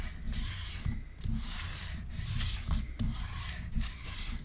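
Close, steady rubbing of a bone folder or tool burnishing a paper hinge on a Stamperia Alice yearbook mini album, a continuous scraping rasp with slight rhythmic pulses, alone with no voices.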